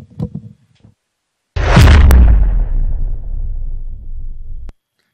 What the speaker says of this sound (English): I love that boom there, the explosion.